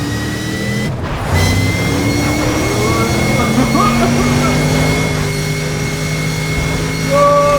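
A modded Ford Mustang accelerates in a Need for Speed video game, its engine rising in a loud, sustained, climbing whine with tonal harmonics.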